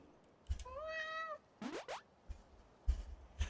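Cat in the video game A Space for the Unbound, one drawn-out rising meow followed by a couple of quick springy boing effects and soft plopping game sounds, close and clear.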